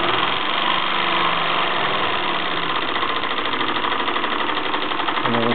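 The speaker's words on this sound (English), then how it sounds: "For some people, this new beam engine maybe runs a little too fast" A small Mamod SP8 toy steam beam engine runs fast and steady, giving a continuous busy mechanical chatter with a rapid, even beat. It is close and fairly loud, with no pauses or voices.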